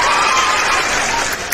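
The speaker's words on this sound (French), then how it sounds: "On va applaudir Fanny fort." An audience applauding Fanny at a live event, a steady, dense wash of clapping that holds loud and even before tapering off near the end.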